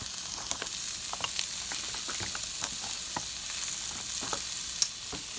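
Vegetable broth from Trader Joe's is poured into a sautéing pan, and a steady, close hiss of frying and sizzling follows with scattered pops and stirring scrapes, no voices.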